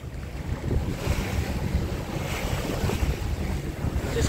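A sailboat under sail at sea off Tahiti in about 12 knots of wind, with a continuous rush of waves against the hull and gusty wind buffeting the microphone, close and steady.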